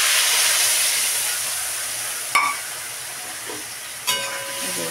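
Hot oil hisses and sizzles steadily after a spice paste of cumin, coriander, Kashmiri chilli and turmeric mixed in water is added, with a couple of sharp utensil clinks against the pan.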